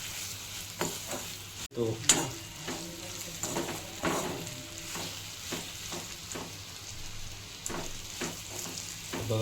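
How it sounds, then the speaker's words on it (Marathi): Fried potatoes and garlic get stirred with spices in a sizzling pan, with repeated spoon scrapes and clatters over a steady frying hiss. A brief voice is heard once. "आता आपण याला एकत्र एकजीव करून घेऊया मसाल्यांमध्ये चांगलं."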